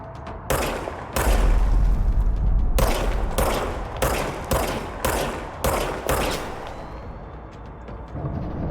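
Loud bursts of service-weapon fire from the video game Control, arriving in several separate volleys with brief gaps between them, over a steady background rumble.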